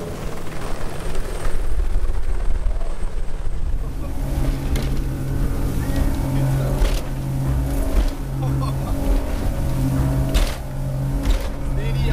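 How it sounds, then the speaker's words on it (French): A helicopter flies overhead during a sea fishing competition, its rotor thump and engine roar loud and constant under wind and people talking. "Pour ce shooting hélico."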